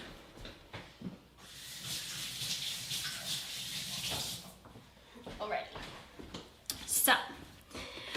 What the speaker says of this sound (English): Let me actually wash my hands.